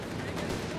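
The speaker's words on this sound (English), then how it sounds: "Got some heavy fire there in the Stuart light tanks" Heavy fire from Stuart light tanks on a Company of Heroes 3 battlefield, a dense continuous roar of gunfire and blasts filling the brief moment, loud and steady with no pause.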